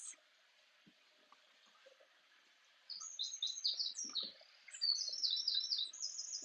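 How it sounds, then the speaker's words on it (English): Small birds chirp and tweet in quick bright bursts, quiet at first and then growing busier and louder in the second half, with faint dripping water in the background. "the sound of the birds,"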